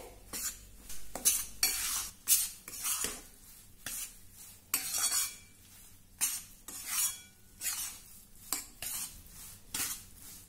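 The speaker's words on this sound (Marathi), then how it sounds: "हे गव्हाचं पीठ अगदी व्यवस्थित भाजून झालं आणि मंद गॅसवर हे पीठ भाजण्यासाठी मला साधारण अठरा ते वीस मिनिट लागले आहे" Wheat flour roasting slowly with ghee in a pan over a low flame for laddu, stirred with a metal spoon in repeated scraping strokes that clink against the pan, a soft sizzle beneath, no voices.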